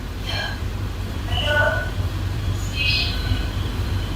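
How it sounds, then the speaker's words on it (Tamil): A local suburban train arrives on the opposite track at a Chennai station near Pallavaram, a steady low rumble with brief squeals and tonal flashes riding over it, people talking nearby. "ஆப்போசிட்ல ஒரு லோக்கல் ட்ரெயின் வந்துட்டு இருக்கு பாருங்க"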